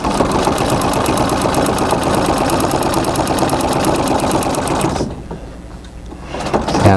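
A sewing machine runs at a fast, even clatter while free-motion quilting feathers, then stops after about five seconds, leaving a quiet pause before a faint restart.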